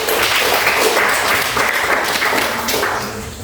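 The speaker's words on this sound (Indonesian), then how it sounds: "Kita beri tepuk tangan untuk Sari dulu." A classroom full of people clapping at once, dense and steady, then gradually thinning out toward the end.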